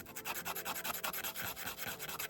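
Small pieces of wood for a miniature build rubbed back and forth on sandpaper, a steady close scratchy rasping in quick repeated strokes, with no voices.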